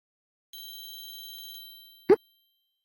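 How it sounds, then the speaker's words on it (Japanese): Telephone ringing in the PC-98 video game Angelus: a thin synthesized electronic ring pulsing rapidly for about a second, then a short soft blip after a pause. "電話？"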